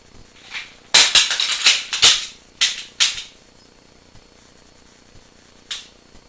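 A pistol speed reload during dry-fire practice: a quick cluster of sharp close metallic clicks and clacks as magazines are swapped and the slide is worked, then quiet with one last click.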